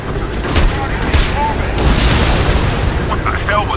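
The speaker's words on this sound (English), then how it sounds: "we have an explosion at the church" A loud explosion in the video game Crysis 2, with booming bursts and a sustained rumble under the chaotic clatter of gunfire and other combat noise.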